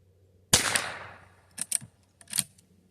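.22 rifle fired while sighting in outdoors: one sharp close crack with a fading tail, followed by a few softer clicks and knocks of the action, no talk.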